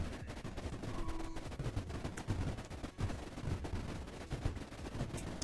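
Defense cannons fire repeatedly during a prison breach in the video game Creeper World IXE, a dense, continuous barrage of sharp bursts over a rumbling low bed, steady and loud throughout with no talking.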